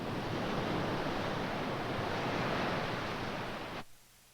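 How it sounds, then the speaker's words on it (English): Broad, steady roar of wind-driven waves washing across open water, loud and unbroken for nearly four seconds before cutting off abruptly into near silence. "The natural waves we have studied so far are caused by wind energy being applied to the surface of the water."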